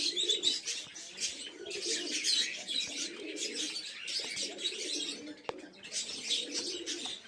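A big, mature male pigeon of a Kaldoma breed coos in repeated rhythmic bursts, close and fairly loud, with faint chirps from other birds mixed in and no talking.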